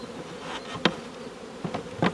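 Honeybees from a newly installed package buzz steadily at close range, a dense continuous hum with a few brief louder swells as individual bees pass near.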